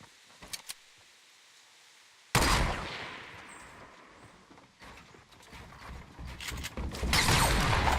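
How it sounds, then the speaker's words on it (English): A pump shotgun fires in the video game Fortnite, landing a headshot: a few small clicks, then one sudden loud blast that spreads into continuing dense game noise, with no voices. "That was a headshot to the face pump, 222 damage."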